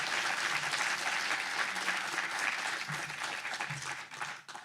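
A conference audience applauds as a speaker is introduced at a BSides Calgary security event, giving dense steady clapping that fills the room and thins out toward the end.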